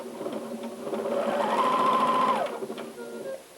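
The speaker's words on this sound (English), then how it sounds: "Now we're ready to begin sewing." Sewing machine stitching quilt squares together with nested seams, a close, steady whirring run of about a second and a half with softer mechanical clicks before and after.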